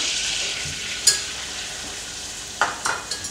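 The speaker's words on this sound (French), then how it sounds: "je vais faire cuire la farine. Alors, il faut que la farine cuise. C'est-à-dire que vous remuez comme ceci" Flour being stirred into melted butter in a pan to cook a roux, a soft steady sizzle with a few light scraping clicks of the utensil, close and without talk.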